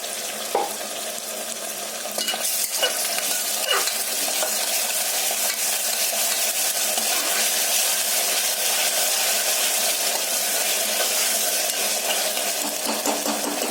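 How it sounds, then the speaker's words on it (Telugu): Ginger garlic paste sizzles steadily in hot oil for mutton curry in a pressure cooker, a loud continuous frying hiss with a few scraping stirs early on. "మనం వేసుకున్న అల్లం వెల్లుల్లి పేస్ట్ కూడా నూనెలో బాగా మగ్గిపోయిందండి"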